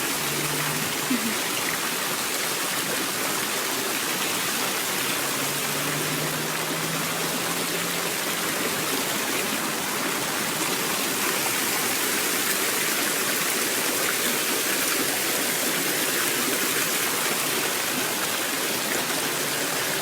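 A waterfall roars steadily nearby, a dense, unbroken rush of falling water that stays loud throughout.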